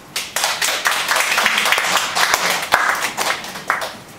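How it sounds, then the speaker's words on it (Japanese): A room of people at an anti-nuclear rally claps together, a dense, irregular patter of hands that swells and dips in uneven bursts for several seconds. "満場の拍手。"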